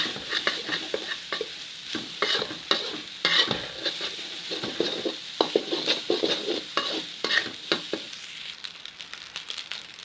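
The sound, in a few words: stirring fried rice in a pan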